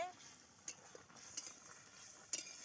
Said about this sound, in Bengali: এই যে টকবক করে ফুটছে